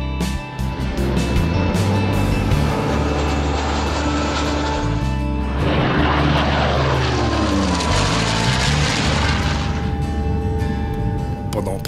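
A propeller airplane flies a demonstration at the Cerny air show. Its loud engine drone rises and sweeps past close overhead, then holds steady, with a little speech faintly underneath.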